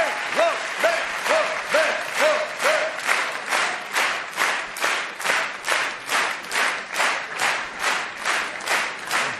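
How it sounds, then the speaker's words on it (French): A theatre audience at a Bataclan comedy show claps in unison, a loud, even rhythmic beat of about two claps per second that carries on steadily, with a brief voice near the start. "on peut l'applaudir très fort"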